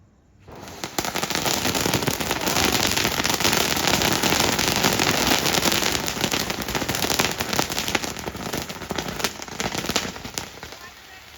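A dense, continuous barrage of Diwali firecrackers in a city crackling and popping loudly for several seconds, with faint voices underneath.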